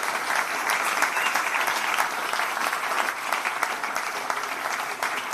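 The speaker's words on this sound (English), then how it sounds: "Ladies and gentlemen, can we please show our appreciation for our panellists tonight?" An audience applauds panellists at the close of a live-streamed evening event, a steady, dense wash of clapping that holds at full strength throughout with no voices over it.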